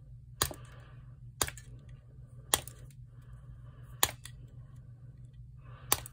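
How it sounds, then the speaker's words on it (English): Leatherman Curl multi-tool scissors snipping through a Q-tip, five sharp, crisp clicks spaced about a second apart, close and distinct over a low steady hum. "I'm going to use a Q-tip to demonstrate the scissors cutting power."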